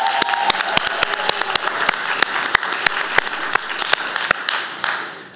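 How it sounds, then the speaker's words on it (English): An audience at a social impact pitch competition claps loudly for the presenting teams, a dense burst of applause with sharp individual claps standing out, tapering off at the end. "Let's give all of them another round of applause."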